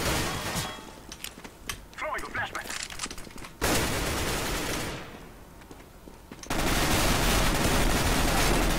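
Rapid bursts of automatic gunfire in the game CS:GO crackle in dense runs, broken by a pause and then a loud sustained stretch, with players talking over it at times.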